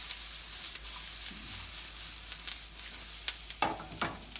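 A buttered-bread grilled cheese sandwich sizzling in a pan, steady frying hiss with a few scrapes and clinks of a spatula, fairly close, no talking.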